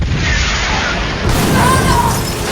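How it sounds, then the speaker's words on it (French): A car is struck by a rocket in a loud explosion effect from a tabletop role-playing game session. It is a dense, roaring blast with a sustained rumbling wash that swells again halfway through, with no speech over it. "Vous avez votre voiture qui fait un énorme roulé-boulé quand elle se prend une énorme explosion."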